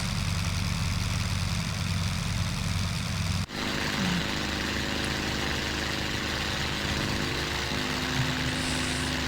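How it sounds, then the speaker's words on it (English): Rotary engine of a Fokker Dr.I triplane in the Flight Simulator 2020 game runs steadily, close and loud, with a dense droning hum that briefly dips near the start before holding an even, continuous tone. "You can see the engine is rotating."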